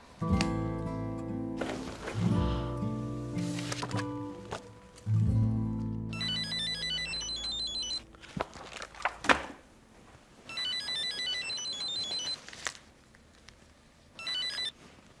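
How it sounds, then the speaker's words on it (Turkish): A mobile phone rings when called at home, its bright electronic ringtone arriving in repeated bursts after louder clatter and thumps, with quiet gaps between the rings. "Ya bir çaldırsana beni."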